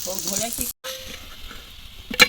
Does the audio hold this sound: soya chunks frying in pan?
yes